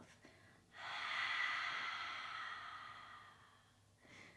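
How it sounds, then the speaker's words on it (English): A single long, breathy exhale through the open mouth during a core workout, close and soft, fading over about three seconds before a brief inhale begins. "And exhale, open up your mouth."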